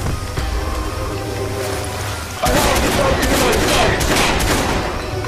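Gunfire in the Watch Dogs video game, a dense burst of rapid shots that starts about halfway through and stays loud to the end, following a quieter stretch of game ambience.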